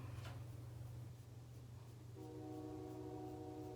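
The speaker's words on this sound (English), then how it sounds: "You can probably hear the train in the background" A train passes somewhere outside, a faint, distant horn-like tone rising out of a low steady hum partway through and holding to the end.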